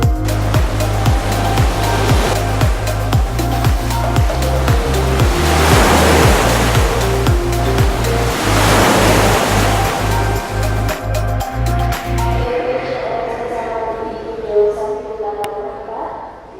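Surf waves wash and break at North Kuta Beach, a broad hissing roar swelling and fading beneath a prominent rhythmic music track with a steady beat, which cuts out near the end, leaving quieter ambience.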